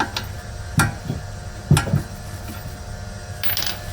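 A ratchet clicks in short bursts while tightening 19 mm bolts on the drivetrain of a 1997 Toyota RAV4 during an axle seal job, close and crisp in a quiet garage.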